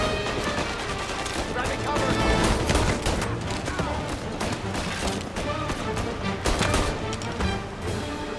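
Rapid machine gun fire in Mafia: Definitive Edition, dense bursts of gunshots rattling continuously and loudly through the whole stretch alongside other combat sounds.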